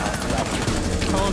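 Rapid gunfire in Rainbow Six Siege, a loud, continuous burst of shots running through the whole moment with voices talking over it.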